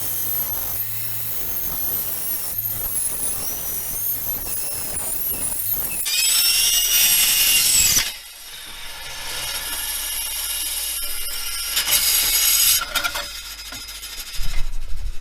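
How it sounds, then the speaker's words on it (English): A small bandsaw trims stainless steel sheet, a steady high, whining cut that grows harsher midway, drops off briefly, then resumes with scraping metal contact before ending on a low thump. "So we'll take it over to the little bandsaw then, and we'll get it all trimmed up."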